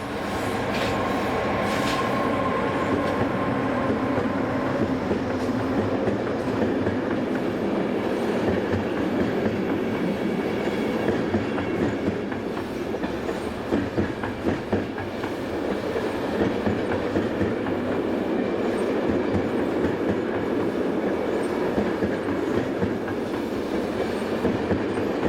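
Class 189 multi-voltage electric locomotive piloting a second locomotive and hauling a train: a steady, loud rumble of wheels and wagons rolling past for the whole stretch, with a continuous hum and rattle.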